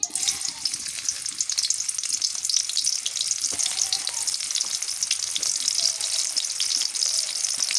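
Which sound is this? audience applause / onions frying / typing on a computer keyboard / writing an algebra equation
onions frying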